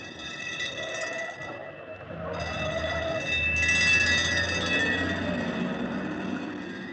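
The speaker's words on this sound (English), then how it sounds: "Or a train. An American train." An American train sample played on a GForce M-Tron Pro gives a sustained, horn-like chord of layered tones over a low rolling rumble, with a short dip in the middle before the chord returns and swells.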